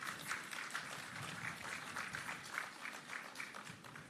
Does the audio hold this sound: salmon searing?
no